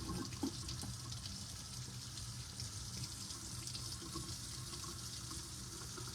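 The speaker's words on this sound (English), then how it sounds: "Warm water, and we start rinsing it." Faint steady stream of warm tap water running into a kitchen sink while chalk paint is rinsed off, a continuous soft splashing flow without talk.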